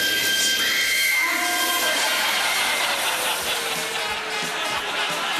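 A steam train drawing in at a station, its loud, steady hiss of escaping steam filling the scene as a whistle sounds near the start, with no talk over it.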